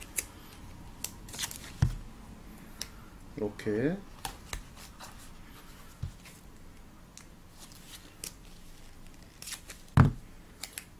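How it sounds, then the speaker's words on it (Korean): 3M double-sided tape is handled and cut while a person talks in Korean, with a few sharp snips and crinkly tearing sounds, close and fairly quiet amid soft rustling. "양면 테이프. 이렇게 붙여줘가지고."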